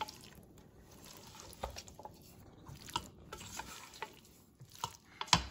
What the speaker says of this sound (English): Start folding these ingredients in gently to the noodles.